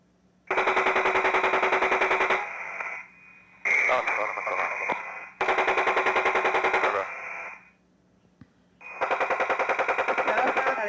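Machine gun fire in long, steady automatic bursts, each lasting a second or two, separated by short gaps with faint background noise. The bursts are loud and harsh with no voices over them.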